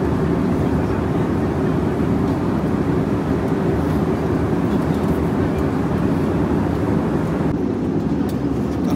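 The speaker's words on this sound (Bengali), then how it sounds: "আমাদের ফ্লাইট ল্যান্ডিং করতেছে" A Pegasus passenger airplane lands at Nicosia, heard from inside the cabin as a loud, steady, dense roar of engines and airflow that holds unbroken throughout.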